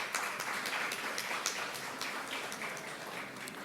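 A conference audience in a hall applauds to welcome a speaker, a dense, even wash of many hands clapping that goes on steadily throughout, moderately loud and slightly distant.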